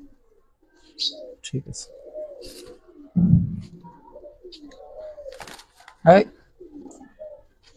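Pigeons of old-style Bangladeshi breeds such as giribaz give soft, repeated coos and murmurs nearby, with short gaps between calls. Someone speaks briefly among them.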